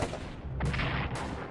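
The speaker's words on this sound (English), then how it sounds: "Defense artillery." Artillery barrages in the World War I strategy game Strategic Command World War I, heard as dense, rumbling booms that swell in two broad surges, loud and continuous across the short stretch with no talk.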